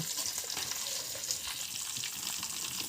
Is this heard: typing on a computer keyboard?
no